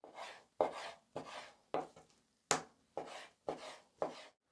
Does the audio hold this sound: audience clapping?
no